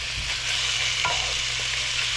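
Seasoned ground meat for a taco casserole sizzles in a pan while a spoon stirs it, with a steady frying hiss and soft scraping strokes, close and alone without talking.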